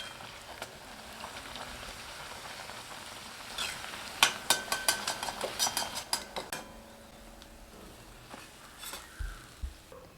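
Aval poori, a puffed Tamil flattened-rice masala poori, frying in hot oil on reduced heat; a steady soft sizzle runs throughout, with a cluster of sharp metallic clinks and bubbling pops in the middle as the poori is turned.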